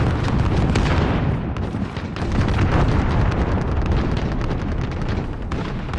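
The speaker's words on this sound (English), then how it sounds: "Allied cruise missile all the way." An allied cruise missile strike detonates in a military shooter game, a loud, continuous roar of rumbling explosions and crackling blasts that fills several seconds without pause.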